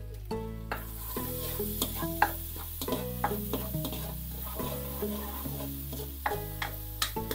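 Sliced onions added to oil with garlic already browned give a steady close sizzle, with repeated spoon scrapes and clinks against the pan as they are stirred; music plays underneath and nobody talks.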